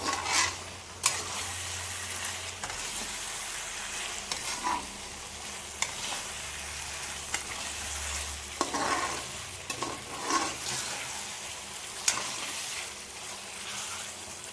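Chicken curry masala of tomato and onion sizzles in oil in a pan while a spoon stirs and scrapes, with steady frying hiss and intermittent clinks.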